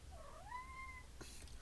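A cat gives one drawn-out, rising meow, close and fairly quiet, followed by a brief soft rustle.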